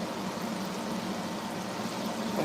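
French fries bubble and sizzle in beef tallow inside a Fry Daddy deep fryer, a steady dense fizzing hiss at close range that holds evenly throughout.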